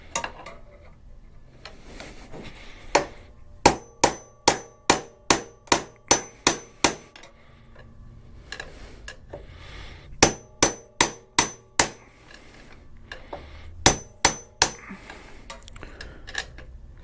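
Sharp metallic hammer strikes on a Motion Pro shock punch loosening the top lock nut on a WR250R rear shock, landing in several quick evenly spaced bursts of five to eight blows with short pauses between.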